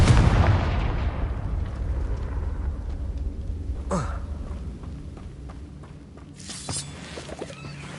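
Confringo fire spell in the Hogwarts Legacy video game bursts with a loud, booming explosion at the start, its rumble fading over several seconds, followed by a sharper crackling hit midway and another burst near the end.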